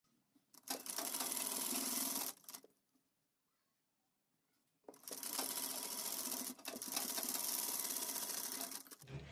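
An electric sewing machine stitches frock fabric in two fast, steady, close runs of rattling needle strokes, separated by a quiet pause of a couple of seconds.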